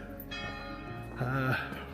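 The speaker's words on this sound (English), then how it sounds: "Church bells, always a good sign," Church bells ring out with resonant, sustained tones, one louder strike standing out midway through.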